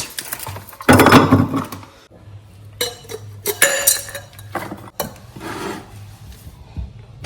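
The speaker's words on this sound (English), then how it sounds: "So you can serve it in a glass like this with some ice" Ice cubes clinking and knocking in a glass of iced kenkey, with close, loud rattles and scattered sharp clinks across several seconds, no talking.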